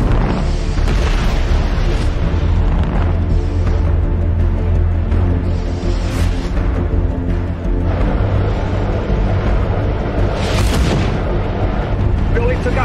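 Torpedo blasts in a space battle in The Expanse rumble with heavy, sustained low booms. Several sharper explosive bursts punch through the loud, dense roar.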